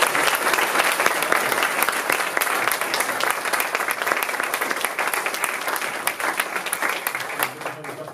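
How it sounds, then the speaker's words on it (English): A room full of people at a school music department event claps in sustained, even applause that carries on for several seconds. "a brief, maybe final round of applause to the team here"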